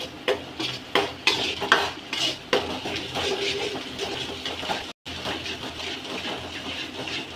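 Chicken curry masala with chili powder being sautéed in a pan, a spoon clinking and scraping against the metal in quick close strokes over a faint sizzle, busier at first and then settling into a steadier stir.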